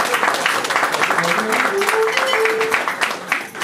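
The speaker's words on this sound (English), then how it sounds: "Please, a resounding round of applause for Baba." A crowd at a formal tribute event honouring former Nigerian president Olusegun Obasanjo claps in a dense, continuous round of applause that stays loud for several seconds. A faint rising tone runs partway through it.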